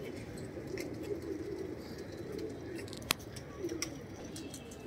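A pair of Rajasthani Lalsar pigeons with black tails coos softly in a Mumbai loft, the low throaty murmurs repeating steadily with a sharp click partway through.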